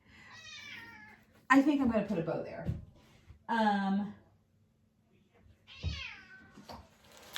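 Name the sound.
cat meowing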